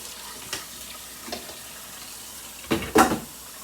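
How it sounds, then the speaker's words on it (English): Water splashed into a hot pan of beef, giving soft hissy bursts with a louder sizzling surge near the end, close by and with no voices. "I just add a little bit of water on it"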